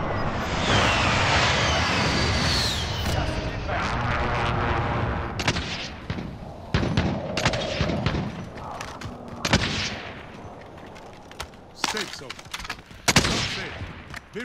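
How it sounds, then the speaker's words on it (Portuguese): Loud explosive bazooka blasts and bursts of gunfire from a video game fill the scene, with sharp booms and rattling shots recurring irregularly, voices talking underneath. "deixa eu dar um tiro de bazuca ali embaixo"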